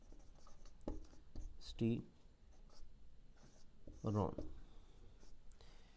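Marker or chalk writing on a board during a lecture on hormones, with short squeaky scratching strokes scattered across the clip under quiet, close speech.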